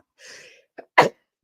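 A single sharp sneeze bursts out after a drawn-in breath, loud and close, in an otherwise quiet moment.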